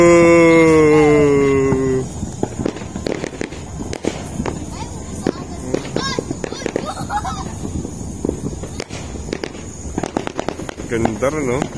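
New Year fireworks in Hong Kong burst and crackle in scattered sharp pops, some near and some distant, while people talk throughout.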